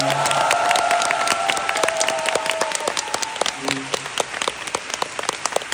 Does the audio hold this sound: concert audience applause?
yes